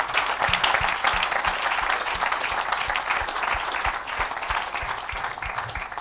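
A church congregation claps steadily and cheers, a dense, continuous wash of applause that stays loud throughout with a faint rhythmic undertone, no distinct speech.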